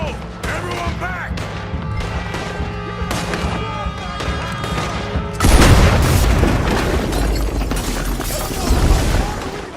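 A loud explosion in Red Dead Redemption 2 erupts about halfway through, a sudden broadband blast with a long rumbling tail that swamps the busy gunfight and background game sound before it.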